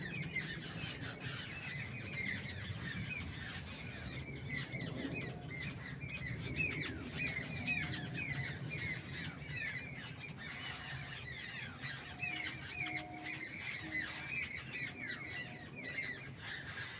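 Large birds squawk and screech repeatedly around an Asian barn owl outdoors, a steady chorus of harsh calls at moderate distance with no talk.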